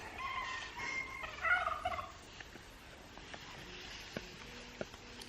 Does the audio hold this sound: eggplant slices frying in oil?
no